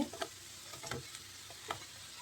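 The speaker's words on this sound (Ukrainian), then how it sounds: "Так, цибульку трошки підсмажуємо і додаємо грибочки." Onions and mushrooms frying together in a pan, a quiet sizzle broken by several short scraping stirs.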